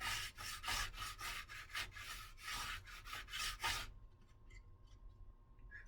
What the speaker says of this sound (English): you gotta be very careful not to press while you're sanding